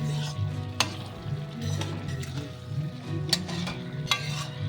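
Cauliflower, potato and whole green chillies are stirred in a pan, with a steady sizzle under spoon scrapes and a few sharp clinks against the pan, close up and continuous with no talk.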